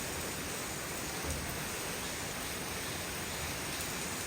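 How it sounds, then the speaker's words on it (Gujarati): Heavy rain pours outside a car during an Ahmedabad downpour, a dense, unbroken roar of water that stays level and uniform for several seconds with no voices. "ફૂલ વરસાદ આવે, પાણી ભરાઈ ગયા છે."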